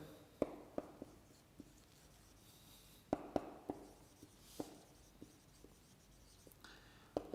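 Chalk or marker strokes on a classroom board during a lecture, a series of sharp, irregular taps and short scrapes spread across the clip, close and fairly quiet with no speech.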